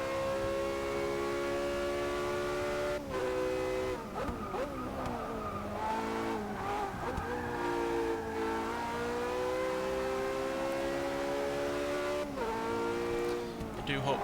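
A Porsche engine in the racing game Forza Motorsport 6 holds a loud, sustained high whine that drops briefly at gear shifts before climbing again, over a dense, steady roar throughout.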